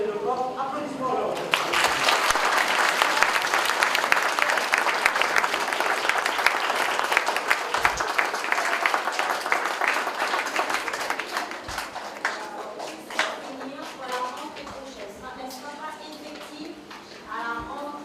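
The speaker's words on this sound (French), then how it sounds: "En tout cas, un grand bravo et de forts applaudissements." Crowd applause at a school festival, a broad burst of many hands clapping that swells, then tapers off over several seconds. Voices of people talking, including children, come through as the clapping fades.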